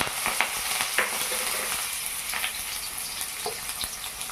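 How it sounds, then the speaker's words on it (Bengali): Chopped onion with dried red chilli frying in mustard oil in a wok, a continuous close sizzle broken by occasional light stirring clicks and pops. "একটু লাল লাল করে এটা ভেজে নেব কিছুক্ষণ ধরে"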